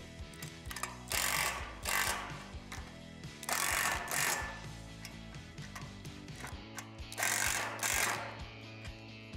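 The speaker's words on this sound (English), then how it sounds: "Tighten the hardware, but be careful not to over-tighten because you don't want the cap nuts to break." Ratcheting and clicking of a tool tightening cap nuts on the metal base frame of a Lifetime 50-inch tempered glass portable table, in repeated bursts of rapid clicks with short pauses, close and steady.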